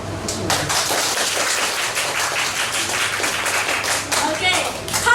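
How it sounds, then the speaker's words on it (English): An audience in a church service claps steadily in a dense, continuous patter of hands, moderately loud and close, with voices and cheering mixed in under the applause. "give yourself a round of applause"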